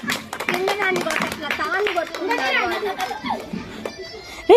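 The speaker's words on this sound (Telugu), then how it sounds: "క్లాప్స్ కొట్టండి." Children in a tuition class clap in scattered bursts, mixed with lively kids' chatter and talking close by.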